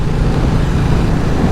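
Steady, loud engine roar and wind rush from a 2021 Ducati Diavel 1260S motorcycle on the move, a continuous low rumble with no talk.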